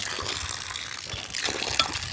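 Muddy water gushes steadily from a running water pump, a continuous loud splashing rush of flowing water with no pause, heard up close.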